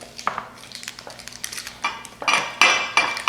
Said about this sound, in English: I'm going to go ahead and do that here with some of this butter. Get it up on the sides too.